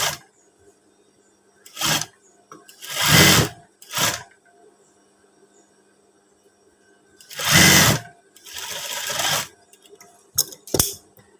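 A sewing machine stitches a PKK-style collar on a batik uniform in short, loud whirring bursts, two closely spaced near the start, two longer runs later and a quick final pair, with quiet pauses between.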